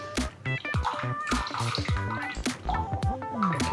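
Water drips and trickles from a soaked Simpsons Chubby 3 best badger shaving brush into a bowl, a busy close run of small splashy drops and dribbles with no talk.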